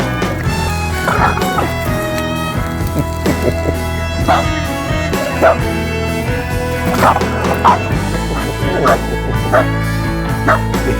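Dogs bark, yip and whimper in repeated bursts, some close and loud, over steady background noise and occasional voices.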